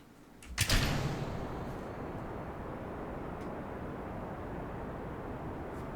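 Rocket launch in Kerbal Space Program: a sharp ignition burst gives way to a steady, loud low rumble of engine thrust that holds on without pause, with no talking over it.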